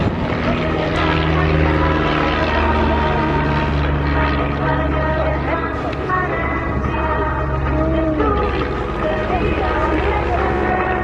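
A propeller aircraft flying aerobatics at the Eastbourne Airshow 2025 drones loudly and continuously, its engine pitch rising and falling through the manoeuvres while a commentator talks over it.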